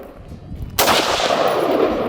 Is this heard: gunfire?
yes